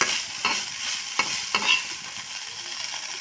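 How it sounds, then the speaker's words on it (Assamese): Leftover rice stir-fried in a pan with meat masala gives a steady hiss of frying, broken by a few sharp scrapes and clinks of the spatula. It is close and fairly quiet, with no voices. "ভাতখিনিও অলপ সময় ভাজি থাকিম। ভাতখিনি অকণমান সময় লৰাই থাকিম।"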